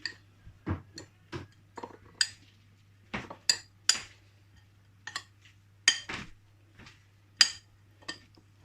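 A spoon knocks and scrapes against a bowl while paratha filling is mixed, a run of sharp irregular clinks and taps spaced apart over a faint steady hum.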